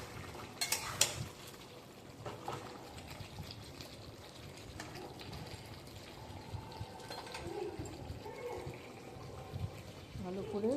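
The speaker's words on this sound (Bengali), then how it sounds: "ভালো করে কষতে হবে বন্ধুরা।" Chicken with chicken masala, garam masala and sugar is stirred and sautéed in a pan, with a soft steady sizzle and scraping of a utensil under background noise.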